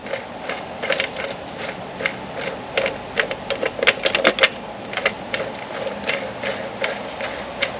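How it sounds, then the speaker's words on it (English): Wheeled trolley jack rolled into place and adjusted beneath a truck, giving a run of close, light mechanical clicks and ratcheting rattles with a brief burst of sharper clatter midway, no talking. "as the jack's on wheels, we'll wheel him under, and you can actually loosen this part just to get you that bit of height adjustment"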